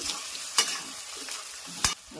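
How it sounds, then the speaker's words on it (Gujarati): A spoon stirs potatoes for batata poha in a hot pan: three sharp scraping strokes stand out above a soft background sizzle, with no voices. "હવે એને આપણે ચમચાથી મિક્સ કરવાનું છે"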